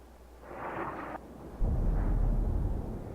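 A tank cannon firing and a shell striking a tank in World of Tanks, a booming blast followed moments later by a heavy, rumbling low impact that lingers.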